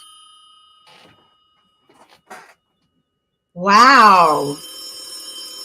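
A red desk phone on a live talk show rings with an incoming call, one loud bright electronic ring with a harmonic warble that follows a few faint clicks. A person's brief exclamation comes just before it.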